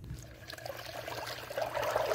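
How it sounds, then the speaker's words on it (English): Water poured from one 5 gallon bucket into another while mixing bee sugar syrup, a steady splashing trickle that swells louder toward the end. "So I'm gonna put that amount of water from my other bucket into this."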